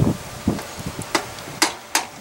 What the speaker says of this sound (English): just kind of hammer that in a little bit better